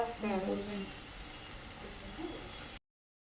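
Jalebi frying in oil, a soft continuous sizzle with light bubbling and some faint background voices, fairly quiet, ending abruptly before the close.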